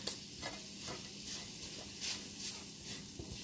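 Turkey pieces and spices sizzle quietly in a pan, with soft repeated scraping strokes of stirring over a steady frying hiss and no talk.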